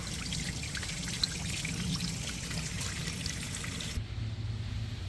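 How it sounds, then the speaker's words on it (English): CLR descaler poured through a big funnel into the heater core of a 2017 Dodge Ram 6.7 Cummins, a steady soft trickling and gurgling stream of liquid that stops abruptly near the end, quiet and close. "I poured some CLR in there."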